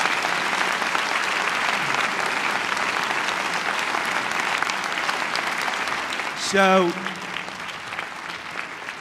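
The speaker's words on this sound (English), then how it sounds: "the applause and the standing ovation is so well deserved" Lecture-hall audience giving former Secretary of State Madeleine Albright a standing ovation, sustained loud clapping from a crowd throughout, with a short spoken word breaking through near the end.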